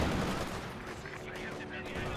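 MG-34 machine gun in Company of Heroes 2 firing on Soviet conscripts, a dense rattling burst running steadily under battle noise and a commentator's voice throughout.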